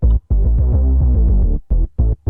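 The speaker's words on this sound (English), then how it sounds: "It kind of goes, it steps up and down like this." A stepping bass line, rising and falling through short sustained notes with brief gaps, loud and alone with no voices.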